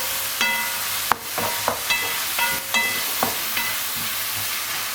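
Meat frying in olive or vegetable oil in a pan, a steady sizzling hiss with several sharp stirring clatters and scrapes spread through the clip.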